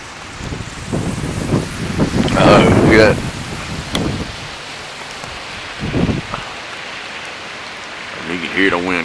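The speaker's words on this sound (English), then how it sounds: "And you can hear the wind trucking." Strong Hurricane Sandy wind blows north-northwest through the night in Virginia as a loud, broad rushing roar with gusty swells and rain hiss, broken by a brief excited shout and scattered talk.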